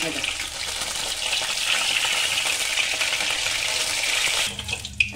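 Mushrooms frying in hot oil in a pan give a loud, steady crackling sizzle that runs almost without a break, then drops off near the end with a brief clatter.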